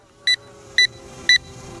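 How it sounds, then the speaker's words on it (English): An LYZ RC L109 Pro quadcopter drone returning home emits four quick, evenly spaced high electronic beeps over a faint background hum, close by. "the quick beeping, it's in return to home"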